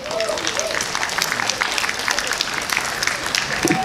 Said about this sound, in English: It's okay to give them a round of applause in the middle of a piece.